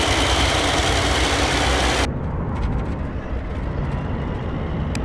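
An armored K-53958 military vehicle in the ARMA 3 video game idles with a steady, loud, droning engine rumble, harsher and brighter for the first two seconds before settling into a duller, continuous hum.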